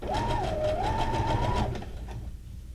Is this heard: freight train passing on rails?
no